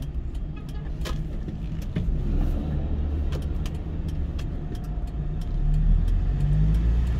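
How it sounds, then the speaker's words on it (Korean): Cars packed in congested road traffic near Moran Market in Seongnam, with a steady, close engine rumble and tire roar that swells slightly toward the end, no voices over it. "차들이 많이 엉키고 있네요."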